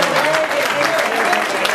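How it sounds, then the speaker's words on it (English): Audience applause at a presentation night in a gym, a steady dense patter of clapping with some talk mixed in. "Big round of applause for Neil."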